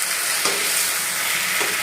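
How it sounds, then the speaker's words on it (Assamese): Homegrown eggplant frying in a pan, a loud continuous sizzle heard up close, with a couple of brief stirring clicks and no voices. "এয়া বেঙেনা ভাজি বনাই আছোঁ"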